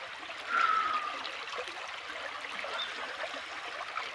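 Clean water flowing steadily on a farm, a soft continuous trickling stream with a slight swell near the start, heard up close and alone.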